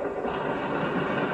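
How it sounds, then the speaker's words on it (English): A long freight train of over a hundred cars rolls past a road crossing, giving a dense, steady, loud rumble and rattle of wheels on rail with no talk over it. "Fast freight number 40 is picking up speed again."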